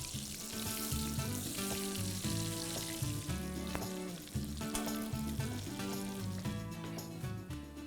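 Potatoes fry in mustard oil with a dense, continuous sizzle and crackle, loud and close throughout, while pitched tones and clinks run over it.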